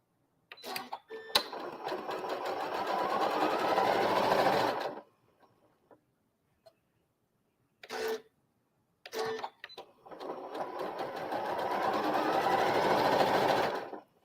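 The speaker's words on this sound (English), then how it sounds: "Sew these quickly." Sewing machine rapidly stitching quilt block pieces on a rotating mat: two loud, close bursts of continuous stitching separated by a quiet pause with a few small clicks and handling sounds.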